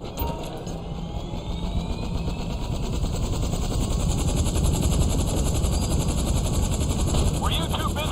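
Helicopter rotor and engine noise from the GTA V video game during the Merryweather heist, a steady broadband whir that builds slightly and holds throughout, with mechanical clatter layered in.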